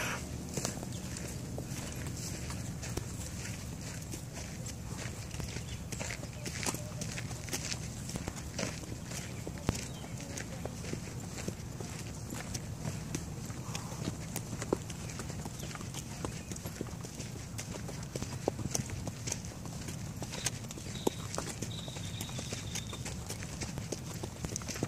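Steady clip-clop of a palomino mare's hooves walking at an even pace on a hard surface, close by, with faint outdoor background noise.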